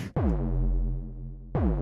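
Gritty, warm wavetable synth notes distorted through a saturator: one sustained tone with a bright sweeping attack, then a second note starts near the end. Dense harmonics, no talking.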